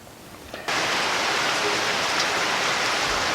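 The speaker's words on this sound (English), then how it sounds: "Beautiful rain right now." Steady rain pours down outdoors, a dense, even hiss that starts abruptly and then holds at a constant loud level with no voices over it.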